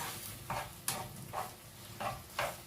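Cut potatoes fry in a shallow layer of oil in a pan, a steady soft hiss broken by a few brighter crackles and scrapes, close and fairly quiet with no voices.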